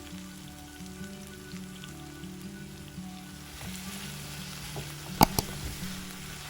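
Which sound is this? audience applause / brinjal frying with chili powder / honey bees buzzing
brinjal frying with chili powder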